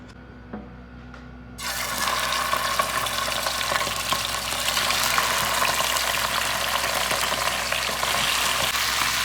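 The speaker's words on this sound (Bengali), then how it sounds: "অল্প আছে, এটা ভেজে নিব।" Food frying in a pan begins with a sudden loud sizzle after a quiet moment, then a steady close hiss and crackle that continues to the end.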